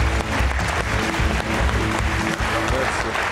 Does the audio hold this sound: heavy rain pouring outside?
no